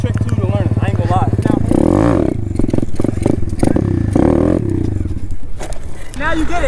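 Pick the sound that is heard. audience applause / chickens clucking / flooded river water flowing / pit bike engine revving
pit bike engine revving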